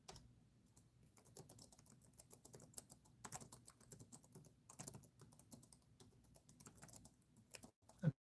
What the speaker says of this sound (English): I'm typing very slowly.